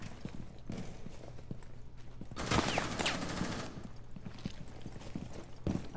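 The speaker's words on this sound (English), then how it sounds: "I hear him shooting at me" Gunfire in a video game, with bursts of shots and clattering in-game noise building to a loud volley near the middle, over a steady background of game audio.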